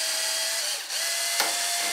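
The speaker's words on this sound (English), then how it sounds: "So now, I'm gonna drill and keep it steady. I'm gonna drill my first hole." A drill runs steadily through the wood of a Kadet LT 40 model airplane during its build, a close, continuous whine lasting about two seconds with a brief dip in the middle and a short click near the end.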